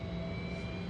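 Jet airplane taking off in an action film, a steady loud engine roar with a sustained whine held for about a second, no voices.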